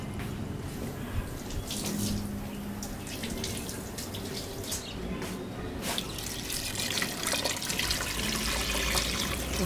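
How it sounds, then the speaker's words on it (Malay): Water splashes steadily into a cooking pot holding potatoes and carrots, a continuous gurgling pour with small drips, close by and without talk. "kita masukkan air 3/4 daripada jumlah air tu kita masukkan untuk kita empukkan carrot"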